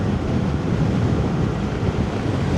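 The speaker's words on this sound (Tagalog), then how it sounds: "Ang lakas ng hangin dito." Strong wind buffets the microphone in a continuous low rumble, loud and unbroken, with no talking.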